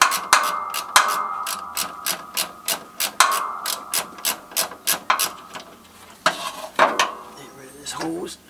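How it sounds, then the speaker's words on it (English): Bolts being worked loose from the brake master cylinder of a 1971 Chevrolet Nova, a quick run of sharp metallic ratchet clicks in close, rhythmic bursts with short pauses between them, with no voices. "we just have a couple more bolts to take out of here, and the master will be out."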